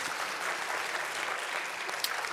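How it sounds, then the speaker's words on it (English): Conference audience applauding a panel of speakers at the AICE2022 event, a continuous, even wash of many hands clapping at moderate volume. "Please, a big round of applause for our panelists."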